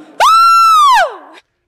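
A voice imitates a woman's scream with one loud, sustained, piercing shriek of about a second that drops off into a short lower tail, followed by silence.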